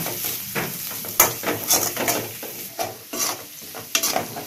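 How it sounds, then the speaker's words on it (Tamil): Two green chillies for a Tamil egg curry sauté in a pan, sizzling close and loud under a series of rhythmic scraping strokes from a spoon against the metal. "பச்சை மிளகாய் ரெண்டு பச்சை மிளகாய் இதையும் போட்டு நல்லா வதக்கிக்கிறோம்"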